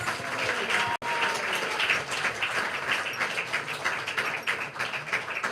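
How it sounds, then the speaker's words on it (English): An audience applauds steadily at a Bhakti Center talk with Radhanath Swami, a dense patter of many hands clapping up close, with a brief break near the start and no voices over it. "Big round of applause, please."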